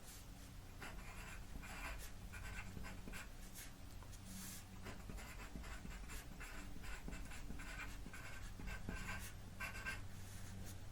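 Marker or chalk strokes scratching across a board in a classroom setting, a steady run of short rubbing strokes over a low room hum, fairly faint and close, with no talking.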